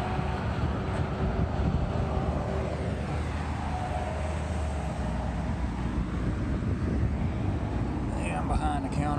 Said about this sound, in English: This is on a real busy highway.